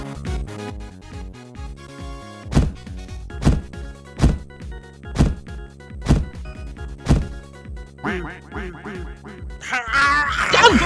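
A duck pond carnival game gives rhythmic hollow thunks with quack-like honks, repeating about every half second over background music, then a flurry of brighter squawks at the end.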